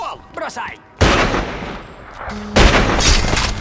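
Gunfire in The Godfather II video game comes as two heavy bursts of loud, close shots with rumbling echoes, after a moment of speech at the start.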